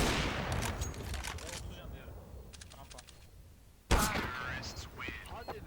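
Gunfire in CS:GO: a few sharp shots and impacts over steady game ambience, with a loud burst near the four-second mark and scattered reports after it, under voices talking.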